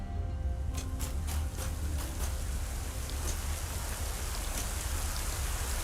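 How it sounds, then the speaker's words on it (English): Rain falls steadily in the factory-building video game Satisfactory, a constant broadband hiss with scattered drop taps, loud and continuous, with no voices. "Oh, it's raining."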